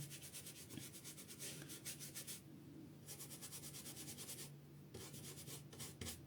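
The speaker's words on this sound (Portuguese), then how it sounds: "Esfregando esse pincel aqui." A brush scrubs aging gel back and forth across a decorative nautical-style tray, making soft rhythmic bristle rubbing in bursts with brief pauses, close and steady, no voices.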